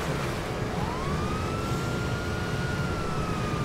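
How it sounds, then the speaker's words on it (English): Police car sirens in a video game, a continuous wailing siren sweeping up and down over a dense engine and road roar, loud and steady throughout. "I have no idea how annoying these sirens are."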